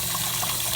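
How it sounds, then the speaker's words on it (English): Cold tap water runs steadily onto boiled eggs in a kitchen sink, a continuous close, even gush with no talking. "So I'm just putting some cold water on these eggs."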